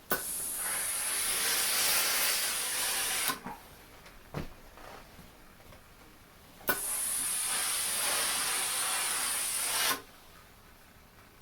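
A steam iron hisses in two long, steady bursts while steaming a heavy wool coat to remove wrinkles, close and loud, with a short scrape or rub between the bursts and quiet pauses after each.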